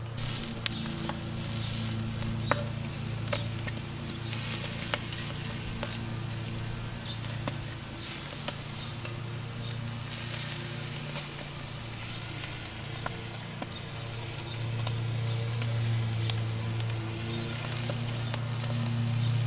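Beer brats grilling on an Oklahoma Joe's Blackjack kettle give a continuous close sizzle and spatter with occasional pops, steady for about twenty seconds, and no one speaks.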